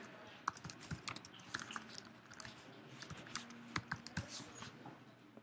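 Quick, irregular clicking of a computer keyboard as data is entered into a form, soft and close, with bursts of keystrokes and no voices.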